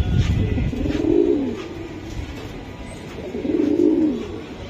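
Dhakai jira pigeons cooing nearby, two rolling coo phrases about three seconds apart over a faint background hum.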